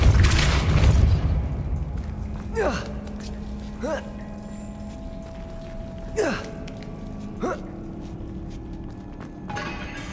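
A Depulso spell cast in the Hogwarts Legacy video game opens with a loud, deep booming burst, then a few bright swooping whooshes ring out at intervals over a low ambient hum.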